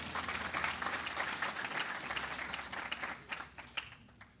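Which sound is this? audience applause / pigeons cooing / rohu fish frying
audience applause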